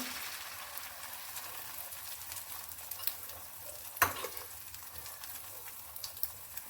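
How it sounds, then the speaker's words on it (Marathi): Beaten egg mixed with onion sizzling steadily in hot oil in a pan, a continuous soft fry with a brief spatter burst midway and no talking. "तेल गरम झालेलं आहे आपण ह्यामध्ये फेटलेले अंडा घालून घेऊया"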